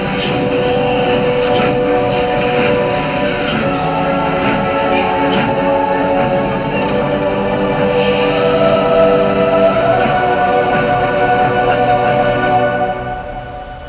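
A steam locomotive pulling a carriage runs steadily, giving a loud continuous rumble and rattle of wheels and machinery close by. No voices are heard, and the sound fades slightly at the very end.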